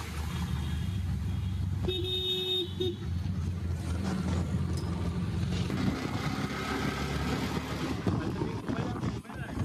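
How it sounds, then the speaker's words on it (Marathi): An auto rickshaw ride in traffic: a steady engine and road rumble runs throughout, with a horn toot near the two-second mark and faint voices in the background. "आता जाऊ आपल्या डेस्टिनेशन मध्ये रिक्षा पकडून."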